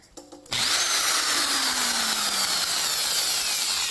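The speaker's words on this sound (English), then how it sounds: "Now we get to do some drilling." A power drill bores a hole while installing a cooling fan, its motor spinning up suddenly after a brief quiet moment and then whining steadily and loudly up close as the bit cuts through.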